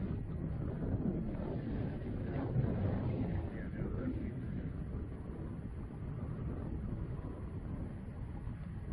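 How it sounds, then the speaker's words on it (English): Steady, heavy wind buffeting the microphone of a flying FPV drone, a dense low roar that rarely lets up across the whole stretch. "Oh, it's windy."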